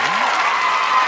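A crowd applause effect plays as dense, loud clapping that fills the whole second alone, with a brief voice-like tone at the start.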